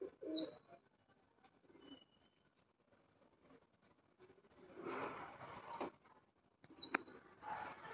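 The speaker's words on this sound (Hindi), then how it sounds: "मेरे पास ये सारे जंगली कबूतर आए हुए हैं" Soft wild pigeon coos come faintly from a distance, with a couple of thin chirps in a quiet outdoor setting.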